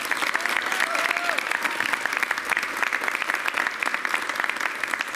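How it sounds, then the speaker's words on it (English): Audience applause at a public school district event, dense steady clapping throughout, with a brief voice near the start. "Let's save applause till I read everybody's name."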